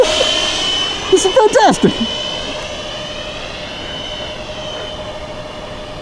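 Twin Freewing F-18 Hornet RC jet plane in flight on its maiden flight, a steady whining jet drone with slowly shifting pitch that carries on throughout, while people talk briefly and excitedly over it early on.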